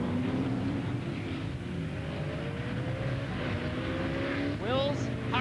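V8 sport sedan race cars, among them a V8-powered RX-7, roar around the Pukekohe circuit, engines droning steadily with a rising whine as a car sweeps close near the end, under a commentator's voice.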